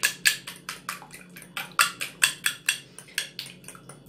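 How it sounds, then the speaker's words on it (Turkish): Two eggs are whisked with a fork for a baked zucchini and carrot fritter batter: crisp, rapid clicks of the fork against the bowl, about four per second in an even rhythm, close and clear with no talking. "Bu yumurtalarımı bir çatal yardımıyla çırpıyorum."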